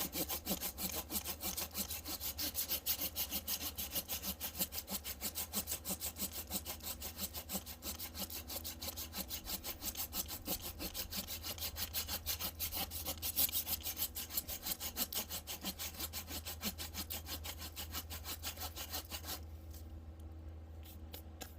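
A hand saw, either a Silky or an Ozark Trail model, works through wood outdoors, giving a steady, continuous back-and-forth rasping that holds at an even loudness for the whole stretch and fades out near the end, with no talking.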